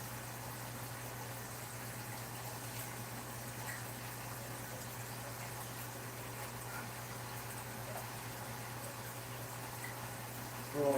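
Cold tap water filling an aquarium rack, a steady low rushing hiss with a constant hum running underneath, unchanging for about eleven seconds.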